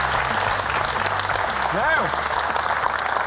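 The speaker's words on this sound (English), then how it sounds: "just a round of applause" An audience applauds loudly and steadily in a talk-show setting, a dense continuous clatter of clapping with a voice briefly speaking over it.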